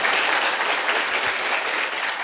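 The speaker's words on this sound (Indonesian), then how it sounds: "Tepuk tangan dulu buat Anda deh," A seated audience at an Indonesian business seminar breaks into steady, dense applause, loud and continuous with no voices over it.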